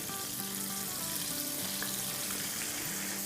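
Chicken pieces for a zinger burger deep fry in a pan with a loud, continuous crackling sizzle. Dense popping of hot oil goes on throughout, close and without talk.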